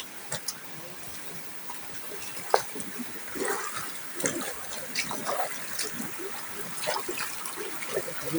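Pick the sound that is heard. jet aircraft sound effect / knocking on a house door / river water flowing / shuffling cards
river water flowing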